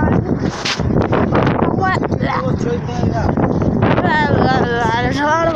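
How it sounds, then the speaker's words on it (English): Strong wind buffets the microphone while walking home through a town, a loud continuous rumble with gusts, and people talk over it throughout. "There's a lot of wind."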